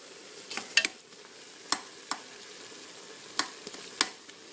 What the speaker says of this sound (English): I put them in along with the Sure Gel packet, and I brought it to a boil